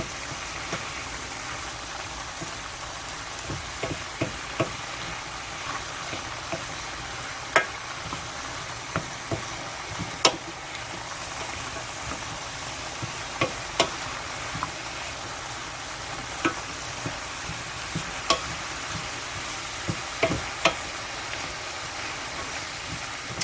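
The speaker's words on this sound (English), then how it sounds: "So now I'm just letting the celery cook down a little, soften" Celery softening in a skillet for a sweet potato one-pan meal makes a faint, steady sizzle and crackle, with scattered light pops and clicks through a long stretch and no talking.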